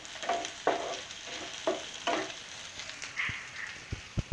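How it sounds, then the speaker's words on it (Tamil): Chicken and coconut sauté in a pan for Pallipalayam chicken, giving a soft steady sizzle broken by a few scraping stirs and light clinks of a spoon against the pan, with no voices. "நல்லா வதக்கி விட்டுக்கோங்க."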